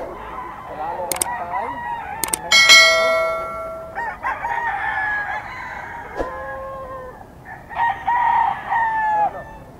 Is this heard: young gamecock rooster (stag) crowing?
yes